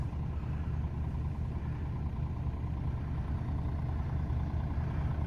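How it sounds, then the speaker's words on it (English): Vermeer BC1000XL wood chipper, rated for up to 12-inch material, runs with a steady, loud low-pitched engine drone, continuous and unchanging throughout. "We got a Vermeer BC1000XL. This will take up to 12-inch material."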